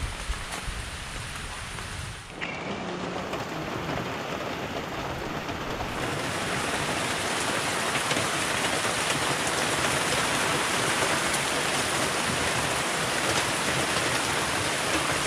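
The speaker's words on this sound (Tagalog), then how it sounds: "Lakas ng ulan." Heavy rain pouring down in a rural countryside setting, a dense, steady hiss that swells slightly louder after a brief dip near the start and continues unbroken with no voices.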